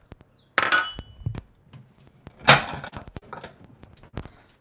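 A sudden ceramic clatter as a plate knocks and rattles against a hard surface in a kitchen, followed by a couple of smaller clinks nearby.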